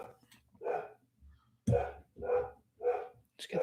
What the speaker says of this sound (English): my dog is very loud